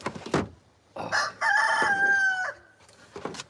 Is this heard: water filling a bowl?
no